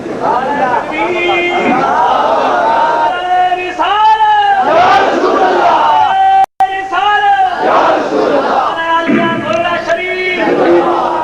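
Crowd at a religious gathering shouting slogans in unison, loud rhythmic chanted calls and responses from many voices, repeated in bursts with a brief cut midway.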